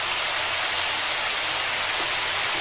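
Snake gourd slices with salt fry in a pan, giving a steady, even hiss of sizzling oil that stays close and continuous with no pauses and no voices.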